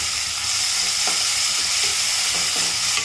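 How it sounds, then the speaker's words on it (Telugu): Onions fry in a pan until brown for a poori curry, giving a steady, dense sizzle with a few soft stirring scrapes over it. "సో ఈ ఉల్లిపాయలు చక్కగా బ్రౌన్ రంగులోకి వచ్చేదాకా వీటిని వేయించుకోవాలి."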